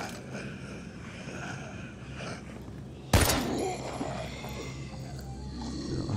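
A single sharp gunshot at a zombie cracks loudly mid-clip in the video game Daymare 1998, cutting through a murky soundscape of low rumbling and muffled ambient noise.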